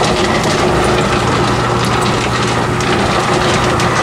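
A homemade rock tumbler with a large 10-inch pulley, Lortone barrel guides and shafts covered in heater hose runs as a loud, continuous rumbling churn with steady grinding and a low hum, close and without talking.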